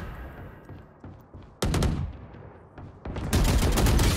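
Rapid automatic weapon fire in a shooter video game death match, loud bursts of several shots that start abruptly, pause, then resume in a dense sustained volley with no talking over them.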